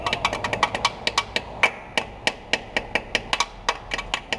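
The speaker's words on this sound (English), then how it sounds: "I'm going to grab this little hammer." A small hammer taps sharply about twenty times in quick, uneven bursts, close and crisp, with short pauses between groups of strikes, tapping off a speedometer sensor on a Mazda Miata 6-speed transmission.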